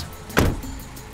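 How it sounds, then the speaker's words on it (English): A car makes a single short, loud whoosh or door-like thud over a steady engine or road hum, with no talking. "It's a car."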